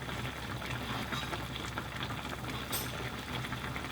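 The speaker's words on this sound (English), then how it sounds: "Seven minutes passed, and then everything's boiling." A pot of bulgogi jeongol with beef and mushrooms bubbles at a steady boil, a continuous soft popping and simmering hiss close by, even in level, with no talk.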